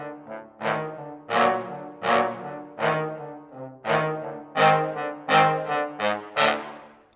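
A trombone section from a ProjectSAM library plays roughly ten sharp, bright chords and notes, recorded with close direct microphones, sounding crisp and present with short, drier decays.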